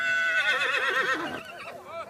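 Several horses whinny and neigh in loud, overlapping calls, part of a herd of about 1500 mares and their foals being rounded up by riders in the Doñana reserve in Spain.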